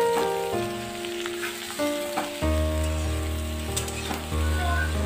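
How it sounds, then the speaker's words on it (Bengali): Sliced ridge gourd crackles and sizzles in hot oil, a loud close frying hiss with scattered pops, under a steady low hum. "ফোড়নটা কিছুক্ষণ ভেজে নিয়ে এবারে এক এক করে আমি কেটে রাখা ঝিঙেটা দিয়ে দিচ্ছি।"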